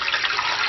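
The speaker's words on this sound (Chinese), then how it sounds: "倒入水" Water poured into a pot holding chicken frames and bones, a brief, steady, loud rush of splashing liquid close by.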